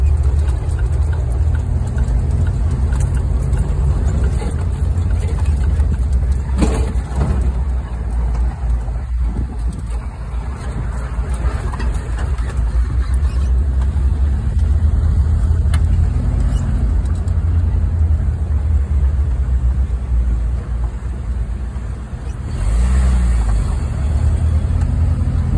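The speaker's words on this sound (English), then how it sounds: "today, we're going to take the Jeep out on Dover Downs Racetrack." A Jeep runs on the Dover Downs racetrack, its engine giving a steady loud low rumble and road roar from inside the vehicle, with occasional knocks and rattles and no clear talk.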